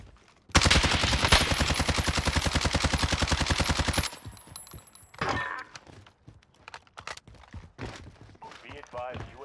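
Automatic gunfire in the Call of Duty Warzone video game, a loud, rapid sustained burst of machine-gun shots lasting several seconds, followed by scattered clicks, movement and a few sharper cracks.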